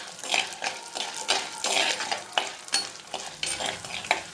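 Large peeled garlic cloves sautéing in a pan, bursts of loud sizzling and stirring scrapes in an uneven rhythm, close and clear with no voices.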